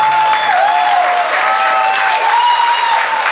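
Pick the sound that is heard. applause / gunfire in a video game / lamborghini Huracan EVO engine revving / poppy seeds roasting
applause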